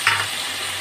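Potatoes fried in a pan with ground ginger, cumin and dried chili paste give a close, bright sizzle, with a brief stirring scrape at the start and a steady hiss after.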